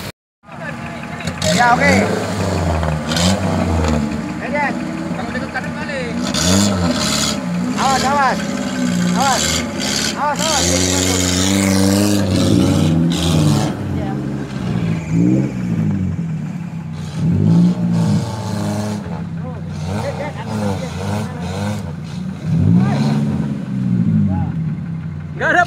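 An off-road vehicle engine roars at full throttle during routine off-road practice, a loud sustained revving with the pitch rising and falling in surges. People talk over it now and then.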